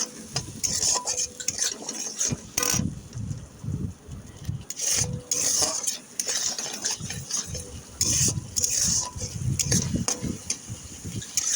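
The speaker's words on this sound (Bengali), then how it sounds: "আদা রসুন লঙ্কা পেঁয়াজ টমেটো বাটা একসাথে দিয়ে দিলাম তেলেতে।" Ginger, garlic, chili, onion and tomato paste fry in oil while a utensil scrapes and stirs it in repeated bursts against the pan, over a steady background sizzle, close and fairly quiet.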